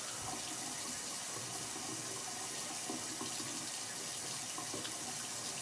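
Hands are rinsed under a running bathroom faucet, giving a steady, fairly soft wash of water that lasts the whole stretch with no talking.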